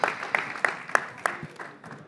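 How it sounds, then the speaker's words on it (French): A few sparse, scattered claps ring out in a roomy space at a real estate awards ceremony, irregular and fading, like a small audience clapping briefly. "On applaudit Romain"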